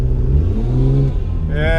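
A 2JZ-swapped Holden VL Commodore with a suspected broken axle accelerates, its engine revving and rising in pitch close by under steady wind and road noise, with talk over it.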